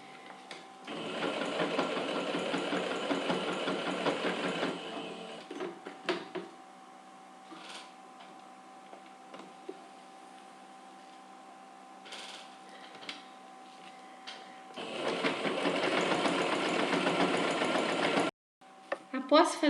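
A sewing machine stitching a denim crossbody bag, two loud sustained bursts of rapid mechanical whirring separated by quieter handling and fabric rustling, close up with no talking.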